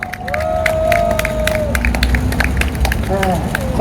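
A crowd cheers and applauds for a singer at an outdoor cultural rally, with loud clapping mixed with shouts, whistles and babble, and brief talk over the noise.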